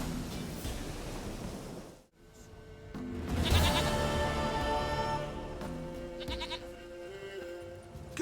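A goat in The Witcher 3 bleats against a steady washing background after a brief dropout, giving a wavering, nasal call that rises and trails off, moderately close.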